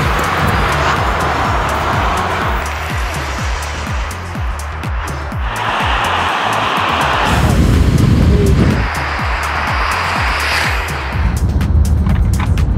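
An electric VW ID.3, a petrol Ford Fiesta and a moped accelerating in a city drag race, heard as a loud rhythmic engine pulse and rushing wind noise that rises and surges through gear changes, with no talking.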